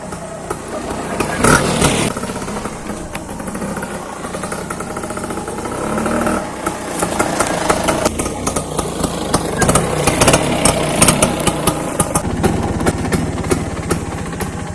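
A vintage Bajaj Chetak two-stroke scooter with a 12V system runs at a friend's house near Ishwaramangala: a loud, buzzy, uneven engine drone that rises and falls as the throttle is blipped, heard close with no talking.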